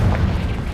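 Confringo spell explosion in the video game Hogwarts Legacy, a short, deep, loud boom lasting under a second.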